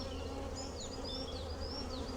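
Honeybees buzzing steadily around a beekeeper's hives where a swarm has arrived, a dense continuous hum with a few individual bees passing close by.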